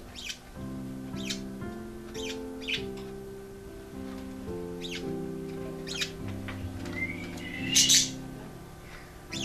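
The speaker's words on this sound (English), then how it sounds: "Suddenly, we heard the chirping again." Birds chirp somewhere above a hutch, giving short, sharp, high tweets at intervals, with a louder squawky burst near the end, all over a soft, steady melodic tune.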